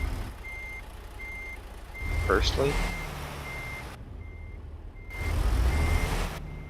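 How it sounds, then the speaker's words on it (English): Repeated reversing beeps from a truck in American Truck Simulator sound at a steady rhythm over a low engine rumble, with a brief spoken word partway through. "So I'm going to reverse it into this parking spot."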